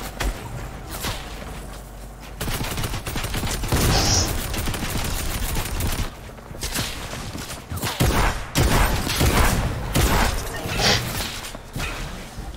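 Assault rifle gunfire in Fortnite Zone Wars, repeated bursts of shots with whooshing movement sounds, loud and close, clustered in several volleys.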